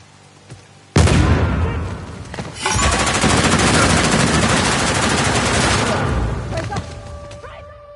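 Gunfire in the action game Uncharted: The Lost Legacy: a sudden loud burst followed by rapid, sustained automatic fire that rattles steadily for several seconds before stopping. A few scattered clicks and tones follow, and some game voices may be present.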